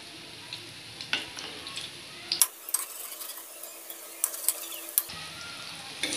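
Wheat flour gulgula being turned over as they fry in hot oil over moderate heat, a soft steady sizzle broken by light clinks and scrapes of a spoon against the pan, with a brief quiet stretch in the middle.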